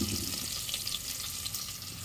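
Okra hits a pan and fries for a vegetable pulao, giving a steady close sizzle with soft stirring scrapes throughout.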